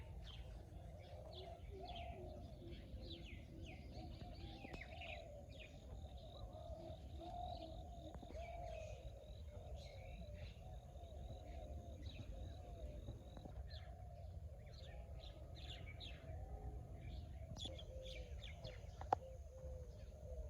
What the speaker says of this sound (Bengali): তো অবশ্যই শব্দ শুনছেন পাখির ডাক